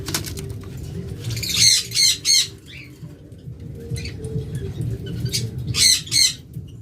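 A caged lovebird gives sharp, repeated squawks in quick clusters, loud and close, with a soft rustling background between calls.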